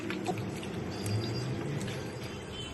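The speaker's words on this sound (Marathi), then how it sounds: "6 पाण्याने धुवून घ्यायचं" Tap water pours and splashes steadily over raw chicken being rinsed clean for biryani, a continuous close wash with no talking.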